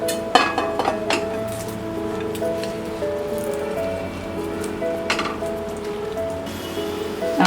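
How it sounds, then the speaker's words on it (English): Cut raw mango, garlic and green chili tip into a sauté pan with a few clinks and soft rustling, close by, over faint steady background tones. "Now I'm going to put the cut raw mangoes, garlic and green chili into this."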